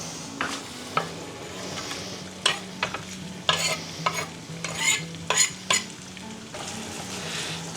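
Sausage and chopped onion sizzle and fry in a pan on a home stove, with a utensil stirring and scraping at intervals and occasional clinks against the pan, close and fairly soft.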